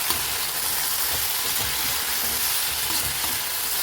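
Hand-rolled pasta being mixed with dark soy sauce and salt in a hot pan makes a dense, even sizzle throughout, loud and close, with no talking.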